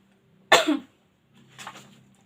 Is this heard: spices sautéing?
no